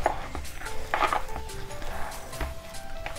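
Potato patty mixture with cornflour being mixed by hand in a bowl, soft squelching and a few clinks of a utensil against the dish, close and moderate, no talk.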